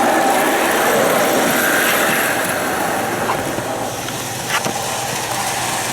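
A 1979 Lionel O-gauge model train runs around its track with a continuous close whirring motor and rolling wheel hum, with a few brief clicks near the end.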